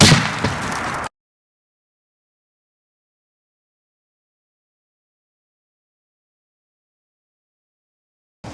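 A .450 Marlin rifle fired into ballistic gel and pork ribs gives a single loud, sharp blast right at the start that cuts off abruptly into silence.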